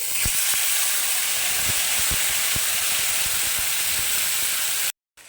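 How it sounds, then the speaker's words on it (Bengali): Spice paste of ginger, tomato, melon seeds and green chili sizzles steadily in a hot pan, a loud continuous hiss with scattered spitting pops, cutting off abruptly near the end. "মশলাটা দিয়ে দিয়েছি, মশলাটা ফোটা শুরু হয়ে গেছে"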